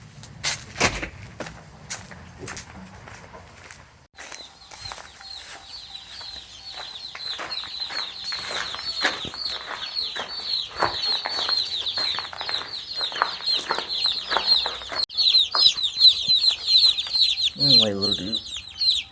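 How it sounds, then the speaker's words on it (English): Chicks on a farm, delivered with feed and water near tractors, peep in a busy continuous chorus of high chirps, with wing flutters and handling bumps early on and a brief louder squawk near the end. "Chicks are here."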